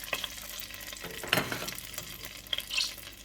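Tomato paste fries in vegetable oil in a saucepan, giving a soft sizzle with a few sharp spoon scrapes and stirring clatters at irregular moments.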